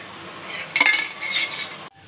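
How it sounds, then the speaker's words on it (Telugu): A metal frying pan set down on a stove before frying chicken liver, giving a short clatter and clink of cookware up close, then a moment of faint rattling before it cuts off. "స్టవ్ ఆన్ చేసుకొని పాన్ పెట్టుకొని ఇలా కొద్దిగా ఆయిల్ పోసుకోవాలి"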